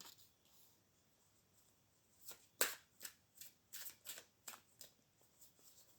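Tarot-style cards are shuffled and drawn for a prediction reading, with a run of crisp, close riffling and flicking bursts that start abruptly after a quiet lead-in, each pass distinct and papery.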